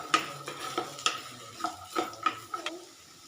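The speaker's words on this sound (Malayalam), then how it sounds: "ഇനി നമ്മൾ അരിഞ്ഞു വെച്ചിരിക്കുന്ന പച്ചക്കറി ഇനി ഒരുമിച്ച് ഇട്ട് കൊടുത്താൽ മതി. നല്ലതുപോലെ ഇളക്കി" Chopped vegetables and onion stirred in a pan for a Kerala-style vegetable kuruma, with a series of distinct spoon scrapes and knocks against the metal over a light sizzle, close and fairly quiet, with no talk.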